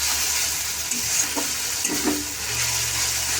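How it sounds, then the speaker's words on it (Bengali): Spice masala fries in oil in a pan on a low gas flame. It gives a steady, close sizzle with a few soft scrapes of stirring and no voices. "ভালো করে কষাবো যতক্ষণ না তেলটা ছেড়ে যায়।"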